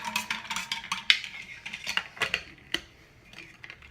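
A spoon clinks and scrapes around a bowl as ingredients sweetened with stevia are mixed, giving a quick, irregular run of light taps and scrapes that fades toward the end.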